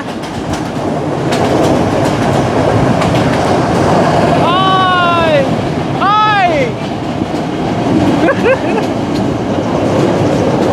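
An open-top rooftop train in Sri Lanka rumbles loudly and continuously, with rattling wheel noise throughout and a couple of high, wavering squeals midway.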